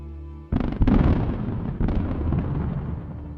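A Russian combat vehicle hit by HIMARS fire detonates: after a brief hum, a sudden loud blast followed by a second burst, then roaring, crackling fire that keeps rumbling steadily.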